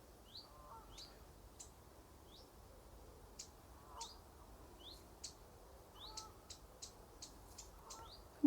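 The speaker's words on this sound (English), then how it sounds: "I can hear a bird above me" Faint, distant bird chirps repeat in short bursts over a quiet, still outdoor background, with a few lower calls mixed in.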